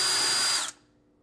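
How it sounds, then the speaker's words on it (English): A powered 5/16 inch nut driver whirs at high speed, driving out a refrigerator ice maker screw, then cuts off abruptly with no voices. "Now with a 5/16 inch nut driver, remove this screw on the ice maker."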